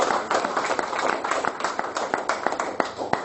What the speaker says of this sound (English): Ladies and gentlemen, a big round of applause to our speaker today